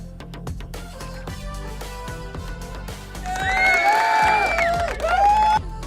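A crowd cheering effect plays from a soundboard. A rhythmic clatter of beats gives way to loud whoops and shouts that swell in the second half and stay close and prominent until the end.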